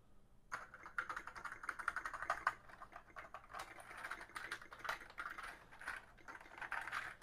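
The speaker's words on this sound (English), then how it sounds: "We're gonna boot up the diagnostic cartridge and test out the keyboard." Keys on an Atari ST computer keyboard are pressed in quick, irregular bursts during a diagnostic cartridge test, each keystroke a close, crisp plastic click with short pauses between runs and no voices.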